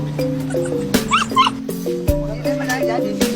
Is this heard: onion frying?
no